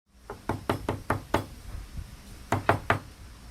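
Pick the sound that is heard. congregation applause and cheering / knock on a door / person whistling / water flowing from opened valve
knock on a door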